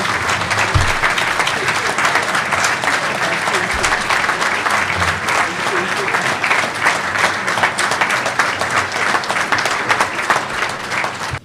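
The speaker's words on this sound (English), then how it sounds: "Can you all please stand and give him a massive round of applause?" A standing audience at a charity fundraising dinner in Slough gives a long, loud ovation, many hands clapping in a continuous dense roar with a few low thumps underneath, carrying on for over ten seconds.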